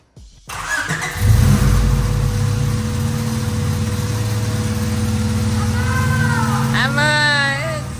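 Honda Civic EG, abandoned for two years, cranks briefly and then starts, settling into a steady idle that runs loud and close, with a voice speaking over the engine.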